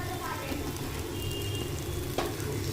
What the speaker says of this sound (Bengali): আদা রসুন যখন ভাজা হয়ে আসবে, এই যে ফেনা ফেনা হয়ে এসছে